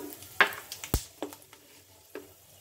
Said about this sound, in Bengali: কড়াইতে একটু সর্ষের তেল গরম করে নিয়ে এটার মধ্যে তেজপাতা শুকনো লঙ্কা দারুচিনি লবঙ্গ আর একটা ছোট এলাচ ফাটিয়ে দিলাম